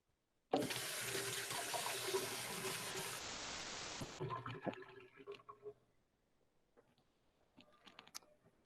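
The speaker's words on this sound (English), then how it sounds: "my hands are sticky, so I'm gonna go wash those off real quick" A bathroom tap runs hard as sticky hands are washed, with a loud steady water rush for several seconds that stops abruptly, followed by faint drips and small clatters in the sink.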